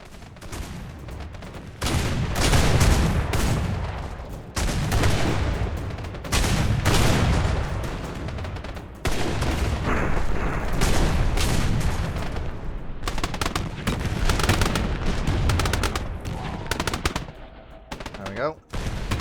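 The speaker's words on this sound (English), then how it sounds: "it sounds like things are exploding" Explosions in the airship battle game Airships: Conquer the Skies: loud, sustained bursts of rapid gunfire and booms rolling in waves with brief pauses between volleys.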